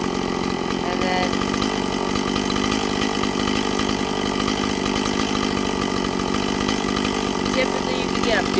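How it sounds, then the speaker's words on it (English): A Stihl chainsaw engine runs at a steady idle, a continuous buzzing rattle held at even level throughout with no pauses, close up. "So that is how to adjust the idle on a Stihl chainsaw."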